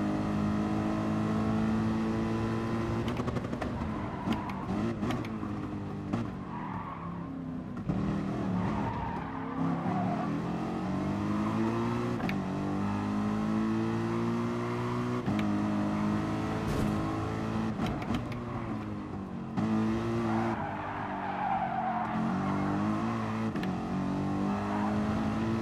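Race cars lapping a small track in Gran Turismo Sport, engines droning and revving steadily with pitch shifts through gear changes, tire squeal and skidding bursts, close and continuous with no talk over it.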